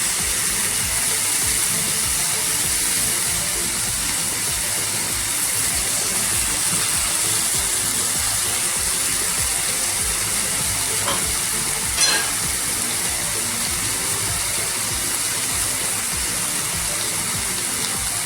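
Steady, loud sizzling of hot oil as asafoetida goes into a pan of pigeon pea pods, a continuous frying hiss with a faint stirring scrape near the end and no talking.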